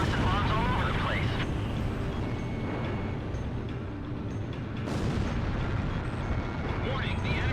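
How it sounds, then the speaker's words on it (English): Heavy bombs exploding repeatedly in a combat video game, a continuous roar of booms and rumbling blasts with engine noise, loud throughout, while someone talks over it. "They're just tossing bombs all over the place."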